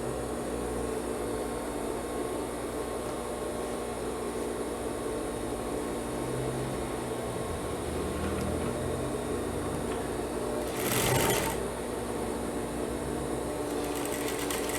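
A sewing machine stitches the back pocket of a pair of trousers, giving a steady mechanical hum that runs throughout, with a brief louder burst near the end.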